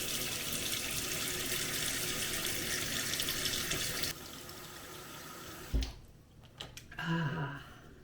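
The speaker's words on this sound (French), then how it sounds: "de l'eau bien glacée sur le visage le matin, là, on adore" A bathroom tap runs steadily in a morning routine while ice-cold water is splashed on the face, with a sharp splash, then quieter dripping and a short voiced exclamation near the end.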